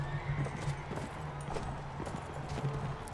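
Horses gallop across open ground in the medieval combat game Mount and Blade: Warband, their hooves a soft, rapid clip-clop at moderate distance, with a faint neigh rising briefly amid quiet background noise.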